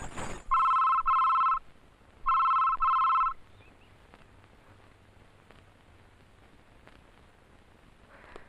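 A telephone bell rings in two double bursts, loud and close, separated by a short pause, followed by quiet background hiss; no one speaks over the ringing.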